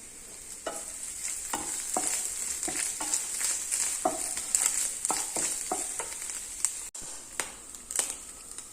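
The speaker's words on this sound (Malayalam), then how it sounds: "തേങ്ങയൊന്ന് വറുത്തെടുക്കാം" Grated coconut roasts in coconut oil in a pan with a soft, steady sizzle, broken by frequent scraping strokes of a spoon stirring it, close and fairly quiet.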